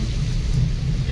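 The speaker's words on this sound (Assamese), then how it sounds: "বৰষুণ বৰষুণ।" Steady rain with a deep rumbling thunder-like roar, loud and continuous throughout, heard outdoors, with no talking.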